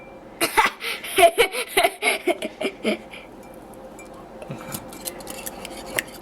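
A fork or spoon clinks and clatters against a bowl while eggs are mixed for scrambled eggs, with a quick run of sharp taps that then fades to quieter stirring.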